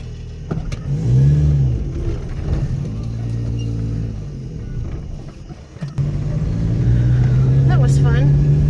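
A car engine hums and revs gently while the car backs out of a spot on a pizza delivery run, with a low steady rumble under a voice and a rising whine near the end.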